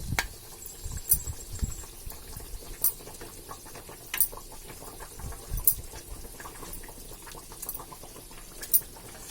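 Water boiling with fried hilsa fish in a potato curry in a pan, a soft continuous bubbling and popping with occasional sharper crackles, close and fairly quiet, no voices over it.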